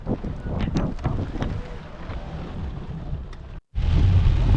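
Heavy rain and stormy wind roar steadily around a car during a thunderstorm with lightning, loud and close, with a few sharper gusts or thumps. The sound drops out briefly near the end, then returns just as strongly.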